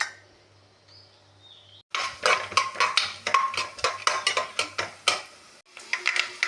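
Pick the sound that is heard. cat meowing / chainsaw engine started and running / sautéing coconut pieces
sautéing coconut pieces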